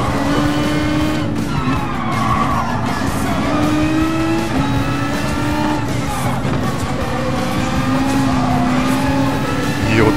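A Ferrari race car engine in a racing video game, a loud, continuous high-revving whine rising and falling through gear changes, with occasional tyre squeal.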